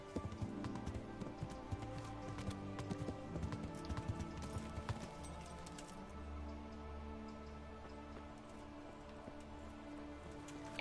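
Steady clip-clop of horse hooves at a brisk pace in the video game Kingdom Come: Deliverance, with a constant rushing ambience like rain or wind underneath and no talking.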